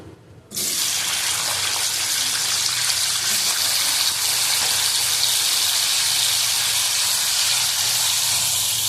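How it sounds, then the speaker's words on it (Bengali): Potatoes fry in a pan, a loud, steady hiss that starts abruptly after a brief quiet moment and holds evenly to the end. "দেখো, আলু ভেজে নিলাম"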